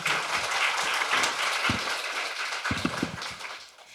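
Audience applause for a speaker at the close of a youth climate conference session in Korea: steady, dense clapping fills most of the clip and slowly thins toward the end, with a few low thumps and no voices.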